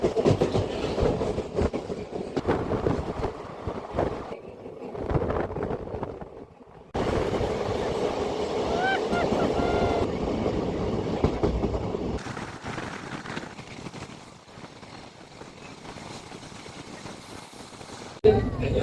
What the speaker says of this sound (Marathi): तर फायनली आता ट्रेन सुरू झालाय